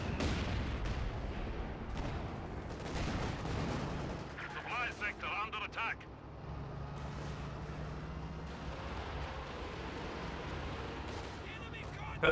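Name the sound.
Panzerwerfer rocket artillery firing in video game Company of Heroes 2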